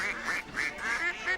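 A duck sound effect in a radio advert gives a string of about six nasal quacks in steady rhythm, close and clear with no talking.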